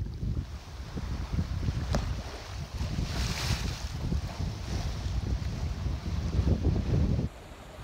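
Wind of about 15 knots rushes over a sailboat under genoa alone at sea among the Greek islands, a steady broadband roar with gusting swells and water noise, no voices.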